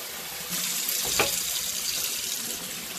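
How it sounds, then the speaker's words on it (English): A kitchen tap is turned on and runs steadily into a sink, a close, even gush of water that starts abruptly and continues alone. "then I will put the tap on"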